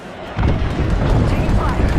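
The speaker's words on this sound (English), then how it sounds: "Heads up, we have an airstrike on us." An airstrike explosion in a video game bursts in as a sudden heavy boom, followed by a rumbling, sustained low roar close by, with a voice talking over it.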